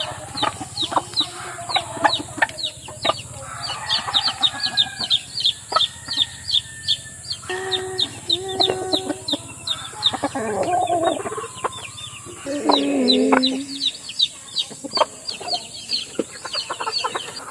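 Young chicks in a backyard coop, newly moved in, give many high, quick peeps and chirps in overlapping bursts, close and fairly loud, with no talk over them.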